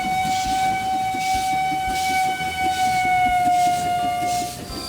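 A toy-like train engine hums steadily in a kids' train racing mobile game, joined by a long sustained whistle or siren tone and a busy clatter of game effects throughout.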